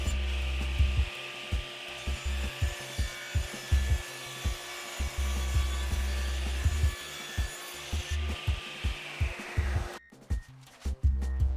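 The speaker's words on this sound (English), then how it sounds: "I ripped these stretchers to just make them blend better with the leg taper" Hand saw ripping wooden table stretchers lengthwise, a steady rhythmic series of close, loud strokes that stop near the end, leaving a few quieter knocks.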